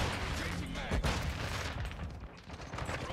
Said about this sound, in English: I'm shooting with a fucking LMG